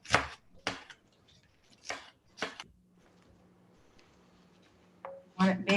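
A knife chopping salted cabbage and bok choy for kimchi on a cutting board, a handful of sharp, separate chops with pauses between, close and crisp, with a faint hum and some clatter near the end.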